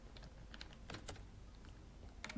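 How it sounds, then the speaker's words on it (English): Computer keyboard sitting directly in front of a microphone, typed on in a few quick, sparse clicks and clacks, close and fairly quiet, with no talking. "my keyboard sounds a bit loud. Because my keyboard is directly in front of the mic."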